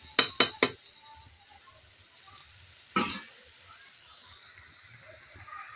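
Fish and green peas sizzle in a pan as they are stirred, with three sharp clanks of a utensil against the pan at the start and another scrape a few seconds later over a steady low frying hiss.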